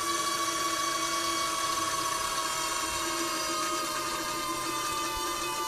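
A power steering pump in a BMW E31 840Ci electric conversion runs under hydraulic pressure, a steady high-pitched electric whine with a constant tonal hum close by and no pauses.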